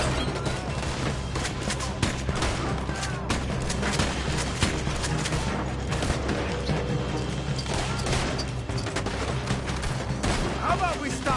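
Rapid gunfire rattles continuously through a Red Dead Redemption 2 shootout during a robbery, dense volleys of shots layered with crashes and game music, with voices talking over the din.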